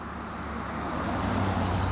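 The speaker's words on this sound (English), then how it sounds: "Yeah, keep on driving by." A car passing on a residential street across from a property, a steady broadband road roar that swells gradually over two seconds, fairly close, with no talk.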